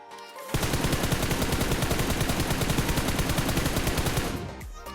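A continuous loud burst of rapid automatic gunfire from a mobile shooter game during a sensitivity test, starting abruptly after half a second and running steadily for about four seconds before tailing off, no talk.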